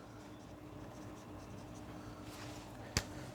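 Soft pen-on-paper writing of units during a heat transfer lesson, a faint scratchy stroke sequence ending in a sharp tap, close and quiet with no talking over it.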